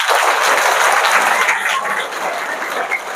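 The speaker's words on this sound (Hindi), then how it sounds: "आप लोगों ने सच बोला इसलिए ताली बजा अपने लिए।" Students clap for themselves in a school classroom, a loud, dense burst of applause that holds steady and then thins slightly toward the end.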